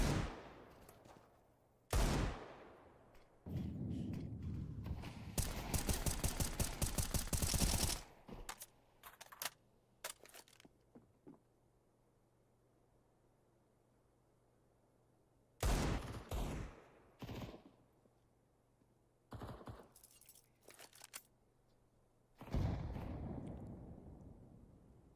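Gunfire in Counter-Strike 2, including Desert Eagle pistol shots: sharp bursts and rapid volleys, some close and loud, separated by quiet gaps, with a longer sustained salvo early on.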